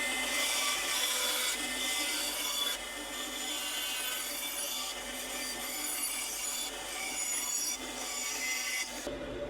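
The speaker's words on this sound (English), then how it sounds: "Now you've seen the bandsaw video before, so I'm not going to go over all the details of this, but I'll just go ahead and cut this out." Bandsaw cutting out a wooden cornhole board part in a makerspace workshop, a continuous rasping, whining cut that swells and eases as the wood is fed, with a brief pause near the end and no talk.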